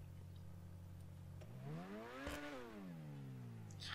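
Ferrari 812 Superfast engine in GTA Online, a steady idle that rises into a brief rev, pitch climbing then falling back, heard alone and fairly faint.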